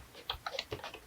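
Several quick, light key taps on a computer keyboard while entering a chart title in a spreadsheet, short clicks in a brief burst with no voice.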